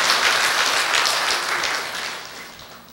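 An audience at a Buddhist military chaplains' day commemorative service applauds a plaque recipient, a full hall of steady clapping that gradually tapers off.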